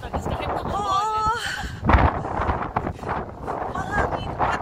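Strong cold wind on a Quebec street buffets the microphone with broadband rumble and gusts, heard beneath continuous talking from people outdoors.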